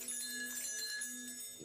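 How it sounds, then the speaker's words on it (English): A telephone rings in a steady, moderately loud trill with bright, bell-like tones, heard alone with no talking. "That wasn't a whistle. That was the phone."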